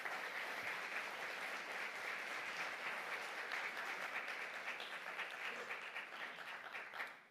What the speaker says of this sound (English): Please give them a round of applause as they're coming up.